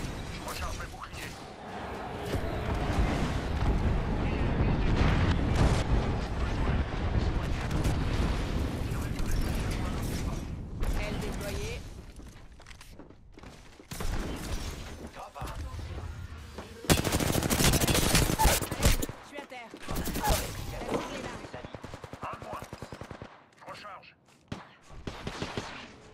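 Rapid automatic gunfire and explosive bursts from the Apex Legends video game, loud and dense in long strafing runs with brief pauses, mixed with game sound effects and a voice speaking in French.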